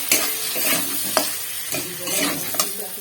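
Pumpkin curry stir-fried with turmeric, the spoon scraping and stirring in a steady rhythm over a continuous close sizzle, with a few sharper clinks of utensil against the pan.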